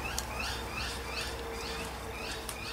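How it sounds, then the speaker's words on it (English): Birds chirp and call outdoors in a repeated series of short, high tweets over a steady background hum, moderately distant and fairly faint. "We've got dogs going and birds going."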